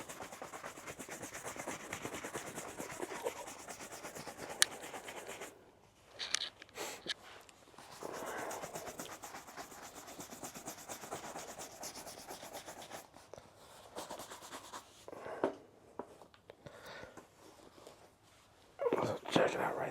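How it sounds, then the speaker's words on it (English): A shoe polisher buffs a shoe with a soft, rough rubbing hiss that comes in bursts with short pauses, close and fairly quiet, while someone talks at times. "what I tend to do is use a shoe polisher"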